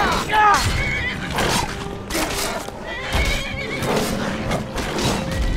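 A horse whinnies loudly in Skyrim, followed by snorts and hoof clatter, with a voice speaking over parts of it.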